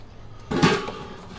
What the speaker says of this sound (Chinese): 好了，盖上锅盖，